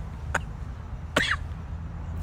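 Two short, sharp coughs, one early and a stronger one about a second later, stand out over a steady low hum of room noise.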